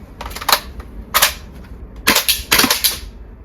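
VFC gas blowback MP5 airsoft gun firing on semi-auto in cold weather, several sharp close cracks with paired shots coming in quick double taps, separated by short pauses.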